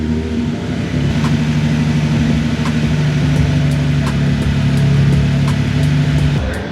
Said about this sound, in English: Now we just need to scrub the tires in because the front is a little taller